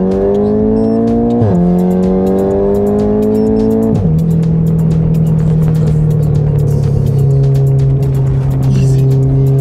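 A tuned 417 hp Volkswagen Golf 7 R accelerating flat out, loud rising engine howl broken by two quick gear changes, each shift dropping the pitch before it climbs again, with a steady rasp over it.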